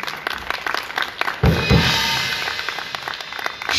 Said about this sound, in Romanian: vă rog, aplauze pentru ei